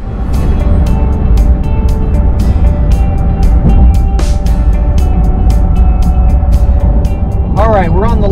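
A RAM 2500 pickup with a 6.4 Hemi V8 drones steadily while climbing the Skyway Bridge towing a boat trailer, a loud constant low engine and road rumble with regular ticking clicks, a voice talking over it near the end.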